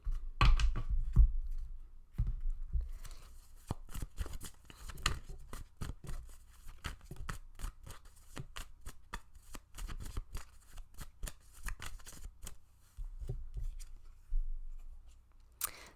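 Tarot cards shuffled and drawn by hand, a rapid run of soft riffling flicks and snaps up close that continues for the full stretch, pausing briefly before resuming, with no talking.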